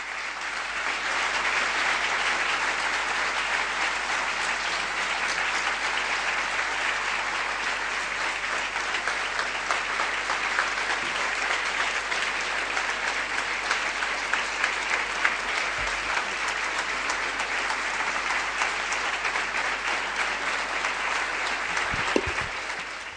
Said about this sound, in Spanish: Estos aplausos son para Virgen María y para Dios, no para mí.